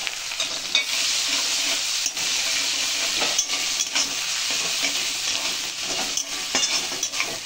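Crushed garlic and ginger frying in hot oil for a Bengali dal, a steady loud sizzle with scraping stirring noises throughout and no voices.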